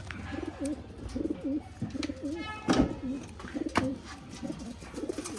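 Pair of pigeons offered for sale in Bangalore cooing repeatedly, soft rolling coos in a steady rhythm close by, with faint background noise.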